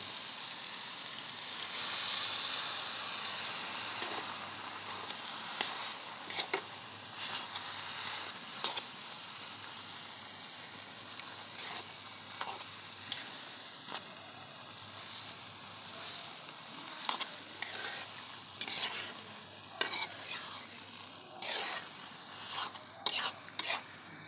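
Grated carrots for gajar halwa roast in a pan with a steady sizzling hiss that fades a little after the first few seconds. A spatula stirs and scrapes against the pan now and then, and no one speaks.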